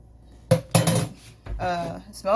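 A spoon stirring instant coffee in a cup makes two quick, close clinks against the rim, followed by a voice speaking.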